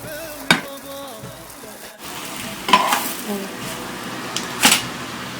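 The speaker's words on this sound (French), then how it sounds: "On la dispose sur la poêle bien chaude." Mhajeb dough laid onto a very hot pan gives a close, steady sizzle, broken by a few sharp clatters of handling, while a person talks over it.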